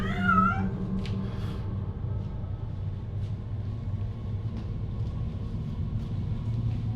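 A cat lets out one short, close meow right at the start. After it, a steady low rumble of background noise continues, with faint clicks and no talking.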